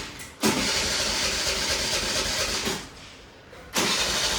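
A petrol car that has sat unused for about a month cranks and starts, then runs at a steady idle, and a second loud burst near the end suggests another start or a rev.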